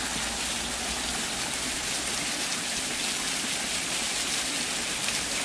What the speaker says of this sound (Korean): 시원하게 흐르네, 폭포가.